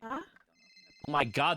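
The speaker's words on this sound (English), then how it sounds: "I think your phone's ringing." A telephone rings with a steady electronic trill between bits of excited speech, the ring running alone briefly before voices return over it.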